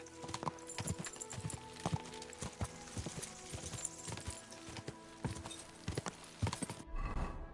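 Steady clip-clop of horse hooves at a walking pace in a video game, close and fairly crisp, continuing for several seconds before cutting off abruptly.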